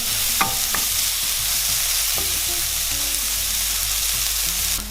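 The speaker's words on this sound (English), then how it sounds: "soon as that hits the pan, that aroma of the garlic and onion all mixed and meeting together smells pretty good" Garlic and onion fry in a hot pan, giving a loud, dense, continuous sizzle close up. Scrapes of stirring run through it, and no one speaks.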